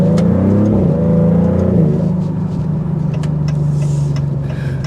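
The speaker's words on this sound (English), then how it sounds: "I kind of like the exhaust note that comes out." A 2024 Maserati GranTurismo engine revs and then settles into a steady throaty exhaust drone, close and loud, with a few faint clicks over it.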